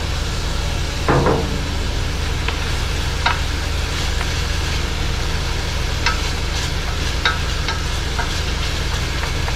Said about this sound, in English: I'm just gonna saute them all together